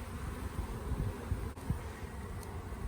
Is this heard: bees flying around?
yes